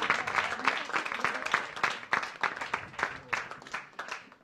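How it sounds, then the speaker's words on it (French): An audience at a French conference event gives sustained applause for a jury prize winner, a dense wash of many hands clapping that swells and then thins out. "On l'applaudit."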